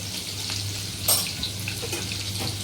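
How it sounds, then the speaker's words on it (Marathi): Green chilies sautéing in hot oil with curry leaves, a steady hissing sizzle with one brief louder spatter, close and alone without talk. "अर्धा मिनिट छान अशा मिरच्या परतून घ्यायच्या आहेत"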